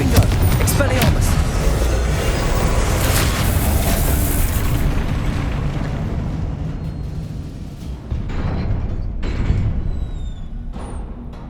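Spell explosions in Hogwarts Legacy during a Percival Rackham trial, a dense roaring stream of booming blasts and bursts that rolls on loudly for several seconds before thinning into a few separate hits with faint magical chimes.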